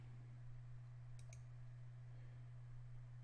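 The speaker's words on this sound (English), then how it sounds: "I will click Reboot." Two quick, soft mouse clicks land close together over a steady low electrical hum in a quiet room.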